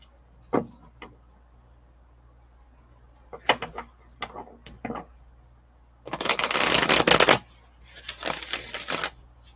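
Tarot cards are shuffled in short riffling bursts, first a few quick isolated flicks and then two longer, louder shuffles, close and clear in a quiet room.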